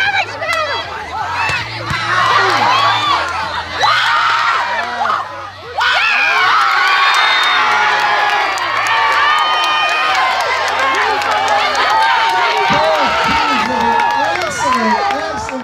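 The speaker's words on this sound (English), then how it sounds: "Fans on both sides cheer their hearts out" Crowd of fans on both sides cheering loudly at a volleyball match, a sustained roar of shouts, screams and whistles with children's voices and babble, swelling after a brief dip midway.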